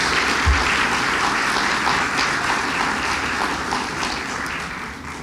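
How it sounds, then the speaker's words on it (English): A room of attendees at a Harlan County candidate forum applauds the jailer candidates, a broad, even wash of clapping that stays steady and then slowly thins and softens toward the end. "let's give our jailer candidates a round of applause"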